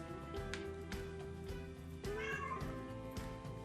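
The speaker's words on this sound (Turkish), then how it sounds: "Bu da bizim kedimiz Layla." A cat meows a few times just outside a home kitchen, fairly quiet and blended into steady background music.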